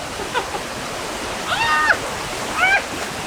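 A waterfall in Palm Springs, California roars in a constant rushing wash, with brief voices and whoops rising over it a few times.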